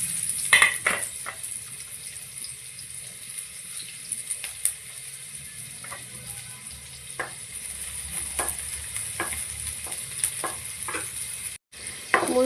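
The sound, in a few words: chopped onions frying in hot oil in a wok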